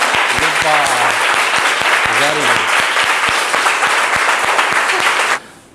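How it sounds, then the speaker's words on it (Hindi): A loud, steady burst of applause welcomes the start of a positive image building training session, many hands clapping continuously for about five seconds before cutting off abruptly, with a voice speaking briefly over it. "तो एक बार जोरदार तालियों से सेशन का स्वागत करते हैं"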